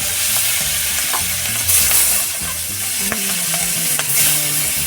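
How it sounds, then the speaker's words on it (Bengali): Pangas fish pieces frying in hot oil in a village kitchen, a dense continuous sizzle with spatters and a few utensil knocks, close and fairly loud, no talk. "তেল গরম হয়ে গেছে মাছ ছেড়ে দিলাম"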